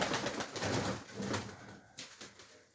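Soft, low cooing of a white pigeon repeats in a steady rhythm close by in a pigeon loft, with faint rustling in the background.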